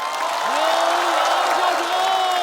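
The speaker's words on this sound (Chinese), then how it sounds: "让我们掌声有请今天最后一位演员刘" A theatre audience applauding and cheering to welcome a stand-up comedian onto the stage of a comedy competition show, steady broadband clapping throughout, with a host's voice talking over it.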